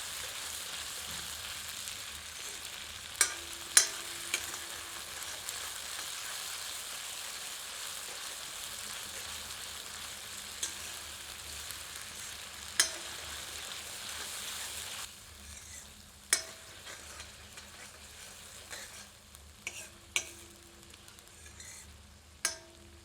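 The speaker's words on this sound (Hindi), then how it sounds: "अब इसमें पीसा गया अदरक लहसुन का मिश्रण सम्मिलित करते हैं। मिलाकर 2 से 3 मिनट मध्यम आंच पर भूनते हैं।" Onion with ginger-garlic paste fries in a pan for a spicy catfish curry, a soft continuous sizzle broken by sharp clicks of stirring, quieter in the last stretch, no talk.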